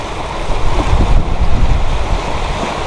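Ocean waves and gusting wind on an island shore in nasty weather, a loud continuous roar of surf with heavy wind buffeting the microphone and no voices.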